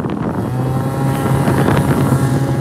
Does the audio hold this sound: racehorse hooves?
no